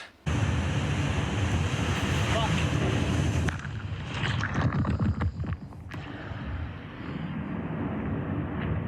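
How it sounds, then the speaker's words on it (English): Ocean waves crash onto rocks on the Australian coast with heavy, continuous roaring surf. Strong wind buffets the microphone, and the wash surges and eases in loud, close bursts. "the waves are crashing onto the rocks"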